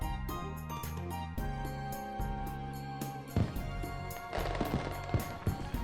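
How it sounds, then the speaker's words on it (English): Fireworks bursting during a festival opening in the video game Robotics;Notes DaSH, a run of sharp cracks and pops over a busy music track, growing denser and louder in the second half. "As the fireworks go off,"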